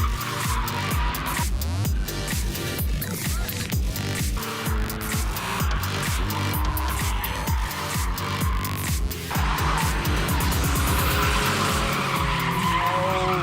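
A drift car screeches through a sustained tire-squealing skid at a drifting event, its engine roaring and revving underneath the continuous loud squeal with no talking.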